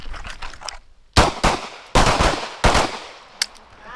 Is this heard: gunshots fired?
yes